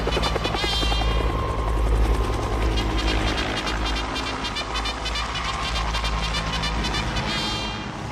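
Helicopters flying in a Vietnam War setting, loud, steady rotor chopping throughout with a heavy engine drone, close and continuous with no talk.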